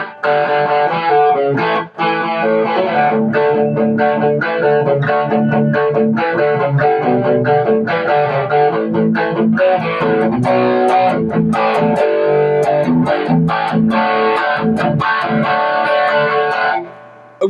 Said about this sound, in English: What I'm using is the tube distortion with the chorus.